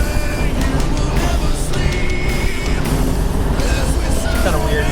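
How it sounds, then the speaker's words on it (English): Road traffic drones from inside a moving car on a mountain road, with a steady loud low rumble, tire and wind noise, and passing-vehicle swells. "fucking traffic"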